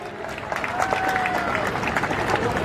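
A wrestling-match crowd at an Indian kusti bout claps in a steady, dense roar of applause that swells slightly and holds throughout, fairly close and continuous.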